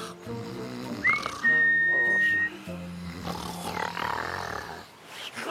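A single clear, high whistle held for about a second, imitating a birdcall in an animated cartoon, with low rumbling snores and background sound around it.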